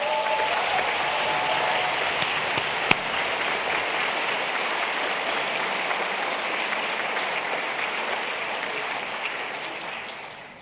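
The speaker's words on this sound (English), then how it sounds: "I think we should give her a big round of applause." An audience in a hall at a Scottish regional brass band championship claps steadily for a young cornet soloist, a dense even wash of applause sustained for about ten seconds before tapering off.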